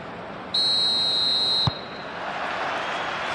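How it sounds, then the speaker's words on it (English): A referee's whistle in a PES 21 Arsenal vs Bournemouth match gives one clear, sustained blast of about a second over a low stadium crowd murmur, then cuts off sharply. "There's the whistle, and here we go."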